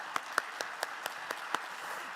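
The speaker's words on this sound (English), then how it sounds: "Give them a round of applause." Sparse, scattered clapping from a small audience at a San Francisco morning panel event, a handful of distinct, moderately distant claps spread over a couple of seconds.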